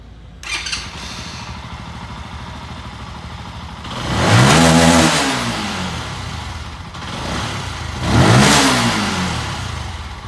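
A Benelli motorcycle with a low-pickup problem idles, then its engine revs hard twice in strong, rising bursts, each settling back to a steady idle.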